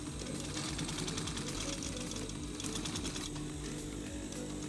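A sewing machine stitches a DIY clamshell pouch, its needle running in a fast, steady mechanical whir, close and continuous with no voices.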